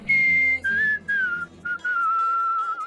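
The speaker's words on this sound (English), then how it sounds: "Oh, the whistling is going to the song." A loud, clear melodic whistle from the video game Where The Water Tastes Like Wine plays a tune in several sustained notes separated by short pauses, bright and close over faint background music.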